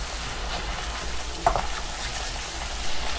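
Ground coriander and a torn bay leaf fry in a pan as spices for lamb brain in coconut milk, making a dense, even sizzle close by with one brief clink partway through.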